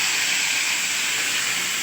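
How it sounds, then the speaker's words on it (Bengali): A hilsa fish head sizzles in a wok for a taro-leaf dish, giving a loud, continuous, close frying hiss with no pauses and no voices. "তো মাছের মাথা পড়ে গেছে কড়াইয়ে।"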